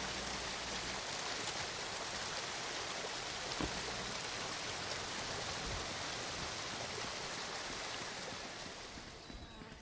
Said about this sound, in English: It's a loud waterfall, but I expect nothing less.